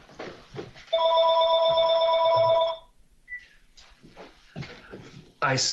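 A home landline telephone rings with a steady electronic trill for about two seconds during a board meeting, loud and close, with people talking before and after it.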